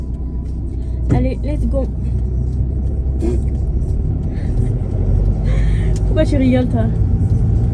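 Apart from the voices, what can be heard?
car driving, mother's car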